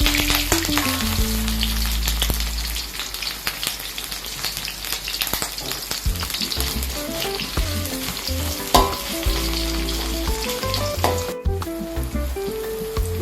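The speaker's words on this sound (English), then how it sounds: "First of all, stir fry the big onion." A big onion stir-fried in a pan for a home-cooked dish, giving a loud, steady sizzle throughout with frequent scraping and stirring clatter of the utensil against the pan.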